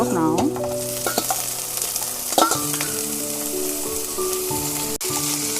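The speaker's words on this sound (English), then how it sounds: "Now we'll add the pork before the onion turns brown, because we need to fry the pork." Pork belly frying in a pan with onion gives a steady, close sizzle, broken by a few louder crackles and clinks as it is stirred, with no voices.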